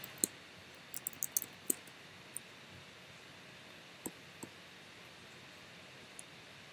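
Faint clicks of typing on a computer keyboard, a short quick cluster of keystrokes followed by a few scattered taps against a quiet, hissy room background.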